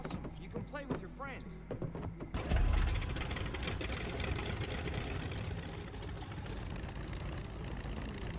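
A propeller plane's engine in the video game Far Cry 5, fitted with a front Gatling gun, starts with a rising roar and then drones steadily and loudly, with game sounds mixed in at the start.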